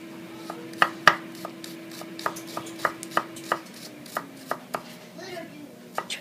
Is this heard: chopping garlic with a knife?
yes